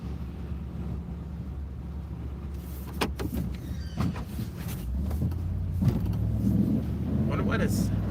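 A Ford F350 pickup with a 6.7 Power Stroke diesel idles steadily, a low continuous rumble with a few clicks and knocks on top, while snowy plowing work goes on nearby.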